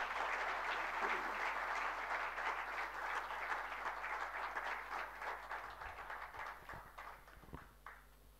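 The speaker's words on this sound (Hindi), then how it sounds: "आइए तालियों के साथ स्वागत करते हैं" Audience applause welcoming a guest speaker at a public talk, a dense steady clapping from a large crowd that holds for several seconds, then thins and fades with a few last scattered claps.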